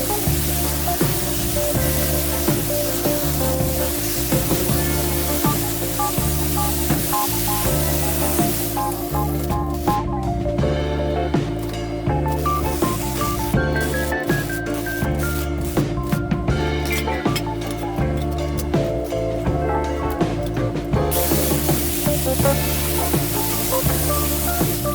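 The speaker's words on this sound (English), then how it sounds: "More welding needed on the clutch pedal." Welding on a Nashorn tank destroyer's steel clutch pedal, a continuous close buzzing crackle with a steady electrical hum under it, running the whole length with brief pauses and changes in tone.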